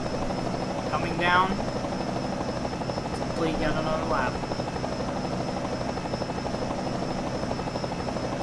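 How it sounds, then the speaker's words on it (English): A helicopter in a NASCAR racing video game hovers over the Daytona track, a steady rotor buzz running throughout beneath a commentator's speech. "Let's take a lap with the Goodyear helicopter in this case. As you can hear the helicopter noises"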